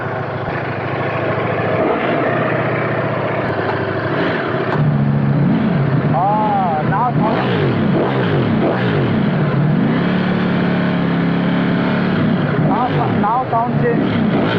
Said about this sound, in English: This is actually stock exhaust.